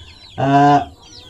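A single chicken gives one loud, drawn-out cluck from a backyard coop, close by with quiet surroundings before and after.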